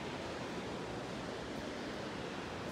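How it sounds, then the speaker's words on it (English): A steady, broadband roar of ocean surf, continuous and fairly loud with no distinct breaks between waves. "the sound of the ocean is insane"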